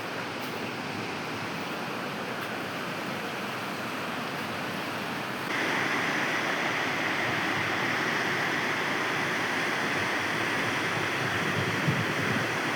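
The flooded Tari river rushes as a dense, constant roar of turbulent water, loud and unbroken, growing slightly louder and brighter partway through.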